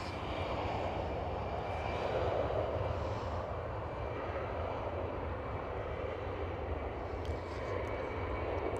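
An EasyJet Airbus A319 airliner at Schiphol airport produces a steady, broad jet engine roar that holds at a constant level throughout, with no talk over it.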